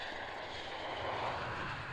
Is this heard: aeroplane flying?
yes